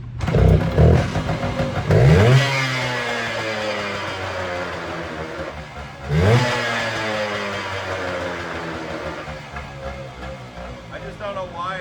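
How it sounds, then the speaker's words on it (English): A 1973 Kawasaki F7 175 two-stroke motorcycle engine revs up twice, rising sharply near the start and again midway, then hangs at high RPM with a steady buzzing whine, close and fairly loud. "I just don't know why it's staying up at high RPMs for so long."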